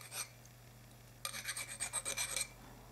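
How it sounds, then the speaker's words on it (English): A hand file rasps burrs off the outside of cut brass trumpet tubing, giving a brief scrape and then a quick run of about eight rhythmic strokes. It is close and fairly quiet, with no voices. "I use the file just to clean up the rest of the burrs on the outside"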